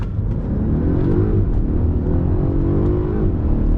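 Polestar 1 hybrid accelerating hard on the Nürburgring, heard from inside the cabin as a loud, steady engine drone with rising pitch and a dip at a gear shift.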